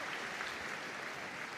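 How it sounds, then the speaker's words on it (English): A large arena crowd at Crufts applauds the best of breed winners, a continuous, even roar of distant clapping with no break. "It's going to round of applause for all of the other best of breed winners."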